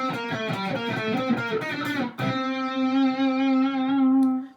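An electric guitar plays a fast solo lick, a quick run of distorted picked notes ending on one long sustained ringing note, clear and loud.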